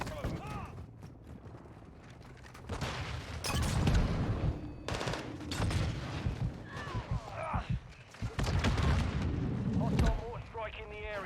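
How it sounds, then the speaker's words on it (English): Heavy booming mortar-strike explosions in Modern Warfare 2 pound in bursts with rumbling impacts and scattered gunfire, while voices talk over parts of it. "Hostile mortar strike in the area."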